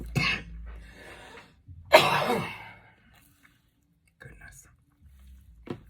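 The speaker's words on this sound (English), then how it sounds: "Still have this cough, it's just holding on there" A person with a lingering cough gives a harsh, close cough, followed by quieter throat sounds and breathing with pauses in between.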